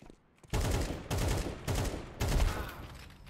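Gunfire in the video game Counter-Strike 2, four loud, close bursts of rapid automatic shots after a brief quiet start, each burst running into the next.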